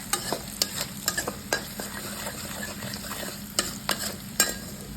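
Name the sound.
masala spices frying and being stirred in a pan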